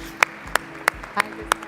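Five sharp, evenly spaced claps ring out in an auditorium, a slow isolated rhythm over a quiet hum rather than full crowd applause.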